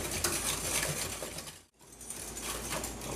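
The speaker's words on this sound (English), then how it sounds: "just whisk all those into this egg and sugar mixture" A whisk beating vanilla and vegetable oil into an egg and sugar mixture in a bowl, rapid steady clicking and swishing up close with one brief pause midway.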